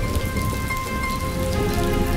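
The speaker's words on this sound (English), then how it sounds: "It's raining!" Steady rain pours down on a surface, a dense even patter with close drops and a faint low rumble beneath, continuous throughout with no voices.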